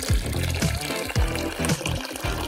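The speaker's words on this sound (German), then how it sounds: "Jetzt kommt heißes Wasser." Hot water poured from a kettle into a teapot, a gurgling, burbling stream with rhythmic glugs, fairly close and steady for a few seconds.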